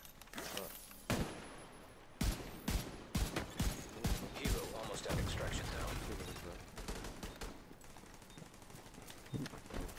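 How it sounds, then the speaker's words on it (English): Sniper and automatic gunfire in the shooter game Tom Clancy's The Division 2, with sharp cracks and bursts at irregular intervals under a steady combat din, loud and close. "Somebody sniping."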